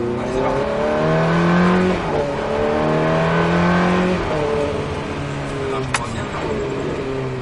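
Ferrari F430 pulling hard on a race track, its engine note climbing through rising harmonics with gear changes, loud and close throughout with faint voices under the roar.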